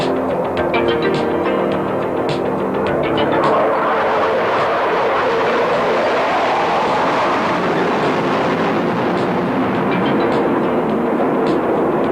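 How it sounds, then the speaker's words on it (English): A military jet flying a carrier-style approach and touch-and-go landing at a 1986 naval air station air show, a loud continuous roar that holds steady for the whole stretch with a broad rushing wash. "then they'll do a touch-and-go landing for us"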